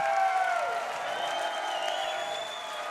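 A crowd at a fight event in Arnold, Missouri cheers and whoops steadily, a dense wash of voices mixed with clapping that holds level throughout.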